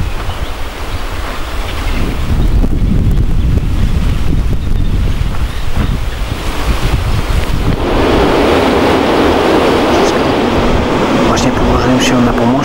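Heavy wind buffets the microphone with loud, continuous low rumbling, while lake water laps near a dam in the background and a voice speaks faintly beneath the roar, at Lake Berzyńskie in Wolsztyn, Poland.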